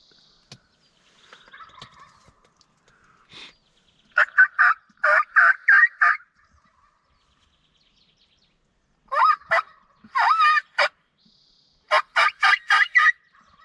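Wild turkey gobbling during a hunt near a cattle gate, several loud rattling gobbles in bursts with pauses between, fairly close and clear, no talking over them.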